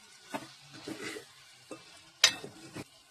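A spoon stirs chicken curry in a pan, making soft scraping and clinking strokes at an irregular pace over a faint sizzle, with one sharper metallic knock near the end.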